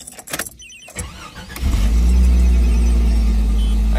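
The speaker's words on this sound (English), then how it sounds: "Let's go ahead and start her up." A car with no thermostat fitted is started after a few clicks and a brief crank, then settles into a loud, steady idle close by.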